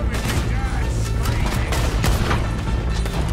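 Gunfire in Red Dead Redemption 2 during exotic animal hunting on PS4, dense overlapping shots and bursts under a steady game soundscape, loud and continuous through the short stretch.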